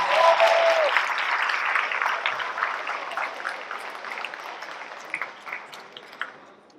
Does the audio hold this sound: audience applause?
yes